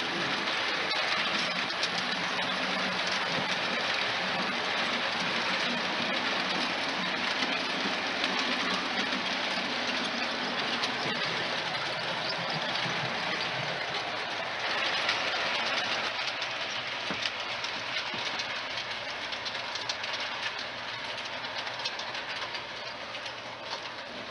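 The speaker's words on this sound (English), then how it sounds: "After a while, the line's premier passenger train, the fast mail, comes storming by." A fast mail passenger train rushes past steadily for a long stretch, a dense continuous roar with faint rhythmic clatter of wheels on rails.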